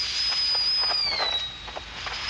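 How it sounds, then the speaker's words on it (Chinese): Volcanic fumarole vents burst with high-pressure gas, producing a sustained high whistling tone over dense crackling, hissing pops that continue without a break. "那我们再来听另外一段地鸣声哈，这个又像什么？"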